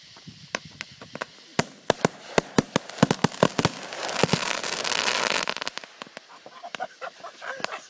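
Eight artillery shell fireworks tied together go off in a rapid string of sharp bangs and crackles, building into a dense roaring burst midway before scattered pops and cracks trail off.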